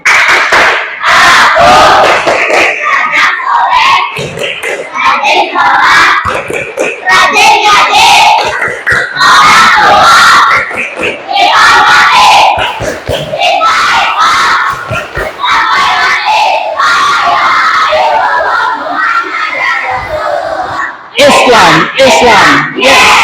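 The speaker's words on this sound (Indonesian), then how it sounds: "Coba tepuk anak solih." Schoolchildren in a classroom perform the tepuk anak soleh clapping chant together, loud group chanting and shouting punctuated by rhythmic claps, energetic and continuous throughout.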